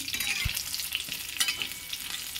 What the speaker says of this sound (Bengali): তার সঙ্গে একটু গোটা জিরে দেব। দেখুন গোটা জিরে দিয়েছি।